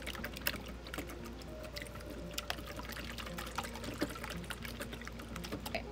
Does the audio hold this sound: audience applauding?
no